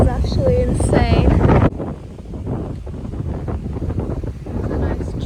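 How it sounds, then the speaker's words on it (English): Strong wind on a golf course buffeting the microphone, a loud roaring rush that drops to a lower gusting rumble, with a person talking over it. "The wind really took that. wind is actually insane."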